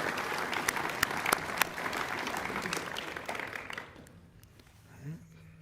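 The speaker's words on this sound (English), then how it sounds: "let's give one more round of applause to Mr. Sutter and the author who wants to remain anonymous" A high school graduation audience applauds for the class of 2024 ceremony. Loud, sustained clapping fills the first few seconds, then thins and dies away, with a brief voice near the end.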